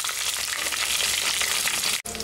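Green chilies fry in hot oil for jeera rice, a steady, loud, dense sizzle that runs unbroken and then cuts out for an instant near the end before resuming.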